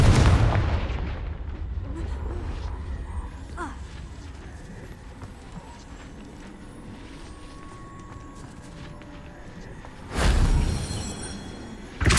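A Confringo fire spell blast in the Hogwarts Legacy video game, a loud booming burst at the start that rolls into a rumbling tail, followed by a quieter stretch and a second heavy blast near the end.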